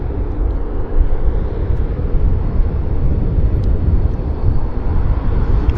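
An Air Canada jet in Disney livery departing from runway 08 right, a continuous deep engine roar carried on the wind, loud and steady without break.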